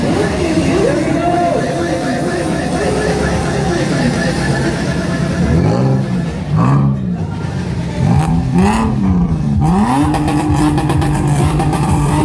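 A motorbike engine revs and rises and falls repeatedly amid a loud crowd at an auto show in Karachi, with people talking and shouting over the engine throughout.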